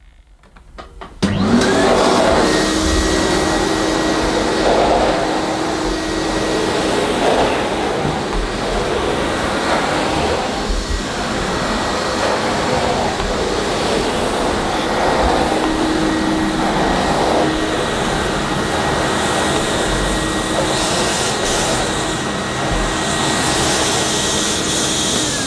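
Vintage Miele Automatic S240i Air Clean vacuum cleaner switching on and running, a loud steady whine and rushing airflow close by with slight surges, alone without talk.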